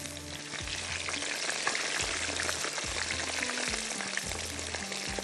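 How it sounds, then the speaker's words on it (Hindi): Aloo katli, thin potato slices, deep frying in hot oil, giving a steady dense sizzle with crackling bubbles throughout, with a few low thumps underneath. "इसको फ्राई आलू कतली जो है फ्राई हो रही है"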